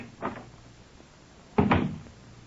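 Old-time radio drama door effect: a brief dull knock or thunk, then a louder wooden clunk and rattle about a second later, close and dry with no voices.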